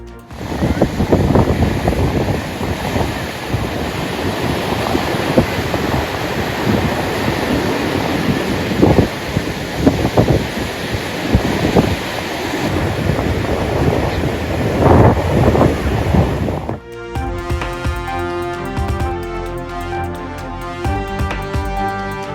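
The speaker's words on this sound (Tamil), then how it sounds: "மரக்காணம் பகுதியில் கடும் கடல் சீற்றம்" Rough seas at Marakkanam during a cyclone, with heavy surf crashing and roaring alongside gusty wind buffeting the microphone, loud and continuous, before the noise cuts off and music takes over for the final few seconds.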